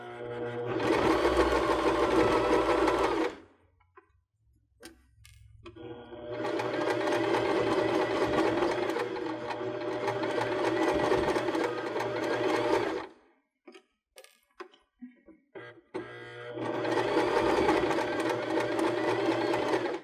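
A sewing machine stitches pom-pom trim onto a cork fabric pillow. It runs in long, steady bursts, pausing between them with a few short clicks of handling, close and clear with no talk.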